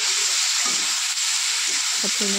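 Drumstick, potato and eggplant pieces fry with cumin in a pan for a katla fish curry, giving a loud continuous sizzle with brief stirring, and a voice speaks over it.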